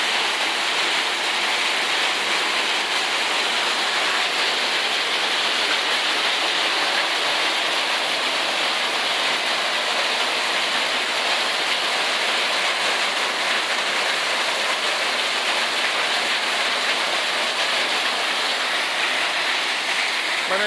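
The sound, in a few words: hailstorm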